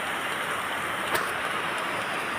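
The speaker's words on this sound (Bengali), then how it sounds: "আমাদের এখানে প্রচুর পরিমাণ বৃষ্টি হচ্ছে, সকাল থেকে এখনো বৃষ্টি হচ্ছে" Steady rain hissing continuously, broad and even with no pauses, plus one faint brief knock partway through; no voices.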